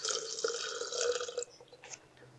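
Water poured onto soil in a porosity and permeability test, a close splashing pour that thins into faint trickling and scattered drips as it soaks through.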